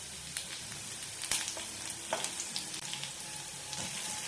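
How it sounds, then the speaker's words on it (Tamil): Garlic and green chillies fry in a pan with a continuous close sizzle, punctuated by a few sharp crackles and spatters and light stirring scrapes. "பூண்டு லேசாக ஃப்ரை ஆகட்டும்."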